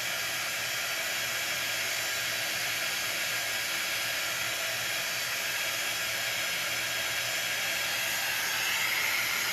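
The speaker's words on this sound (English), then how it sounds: "It's just warm air. So we're just giving this a quick dry." A warm-air embossing heat tool blows steadily over chalk paste on a board, a continuous close whooshing hiss with no pauses, heard alone.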